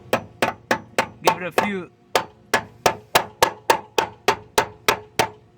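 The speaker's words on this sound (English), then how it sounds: "to put in the little tabs, you're gonna have to get a hammer" A hammer taps metal brake line tabs into place on a Jeep Comanche, about fifteen sharp, evenly spaced strikes close up, with a short spoken phrase partway through.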